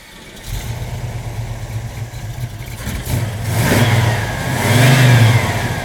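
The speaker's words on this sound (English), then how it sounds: "We'll go ahead and start it up so you can hear it run." A 1967 Chevrolet Chevelle Malibu Wagon engine with headers and electronic ignition fires up close by, settles into a rumbling idle, then revs in two rising surges, with no talking.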